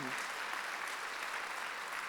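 Church congregation applauding during a Sunday worship sermon at a Korean church, a steady dense wash of clapping that stays even for the whole stretch.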